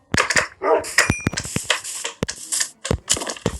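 Dogs in the Minecraft video game barking in a quick, clipped series of sharp yaps, loud and close, with no other sound between the barks.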